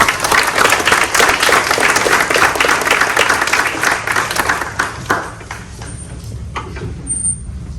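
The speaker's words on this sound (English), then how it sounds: "So let's give you a round of applause." A graduation ceremony audience applauds nursing assistant graduates with sustained, crowded clapping that holds strong for about five seconds, then thins and fades toward scattered claps at the end.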